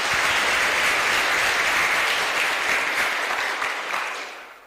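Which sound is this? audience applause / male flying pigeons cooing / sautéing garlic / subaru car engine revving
audience applause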